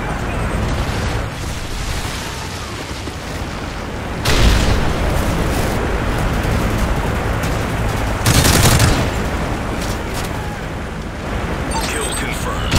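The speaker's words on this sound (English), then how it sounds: "Friendly strafe run incoming." A strafe run in Call of Duty, with heavy gunfire and booming explosions over a constant roar of battle, and two louder blasts hitting about four seconds apart.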